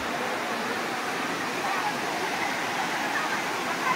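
A steady broadband rush of falling water carries on along the path down to Tanawan Falls in Dingalan, Aurora. The roar is constant and moderate, with no clear talk.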